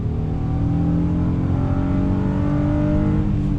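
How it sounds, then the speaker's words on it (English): A 2021 Honda Odyssey minivan with a 10-speed automatic accelerates hard after a downshift, its engine hum climbing steadily in pitch, heard loud and continuous from inside the cabin with no talk. "let me do a little acceleration test here. On throttle, 10-speed drops down. We are off and running."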